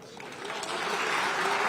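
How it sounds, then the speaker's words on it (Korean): Applause in the National Assembly chamber, a crowd of clapping that swells and then holds steady, loud and close, with voices mixed into it. "한쪽에서는 박수를"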